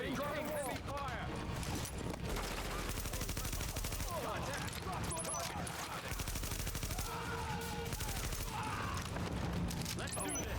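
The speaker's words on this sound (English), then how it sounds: "Free. Taking heavy fire." Heavy automatic gunfire rattles almost without pause in the Tom Clancy's The Division video game, dense and loud, with a voice speaking over the shooting.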